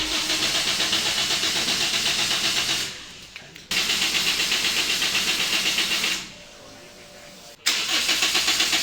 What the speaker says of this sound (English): With all that done, it's time to start the car,